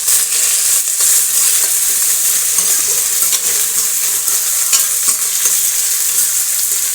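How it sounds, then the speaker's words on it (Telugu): Sliced onions, mustard seeds and curry leaves fry in hot oil with a loud, continuous bright sizzle and crackle, steady from start to finish, with occasional spoon stirring and no talking. "ఆయిల్ వేసుకొని ఎర్రగడ్డలు, సాసవులు, కరివేపాకు వేసి వేయించుకోవాలి."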